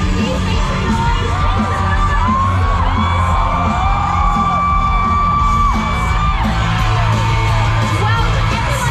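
A large crowd roars and cheers at the Singapore F1 Grand Prix night race, a dense, loud, sustained wash of yells and whoops with a few rising whistles and tones cutting through, no clear speech.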